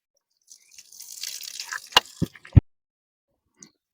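Water poured over a temple deity during Maha Shivaratri splashes briefly, followed by a few sharp drips hitting a surface, then near silence.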